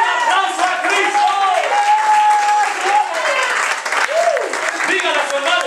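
A church congregation applauds while a voice sings or chants over the clapping, steady and loud throughout.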